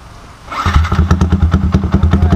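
A motorcycle engine starts up and settles into a loud, close, steady rhythmic idle with regular low pulses, heard alone with no talk.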